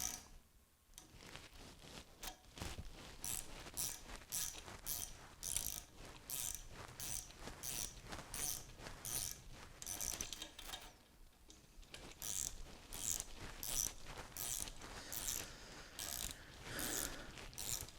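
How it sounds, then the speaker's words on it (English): Ratchet wrench tightening a nut and washer while assembling a 3D-printed miniature train, giving a steady run of close, crisp clicking strokes with brief pauses between bursts. "go like this with our washer and our nut. We'll tighten this down."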